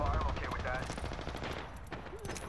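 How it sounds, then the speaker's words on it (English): Rapid automatic gunfire from the Apex Legends battle royale game, a dense burst of repeated shots up close that thins out over a couple of seconds, with faint game sounds behind it. "Shots fired, and they're hitting me"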